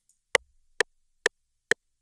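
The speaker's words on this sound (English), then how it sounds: "this is the metronome button, and it will be used for getting the idea of the speed of the song" Four sharp, evenly spaced metronome ticks in FL Studio 20, about half a second apart, crisp and close with silence between them.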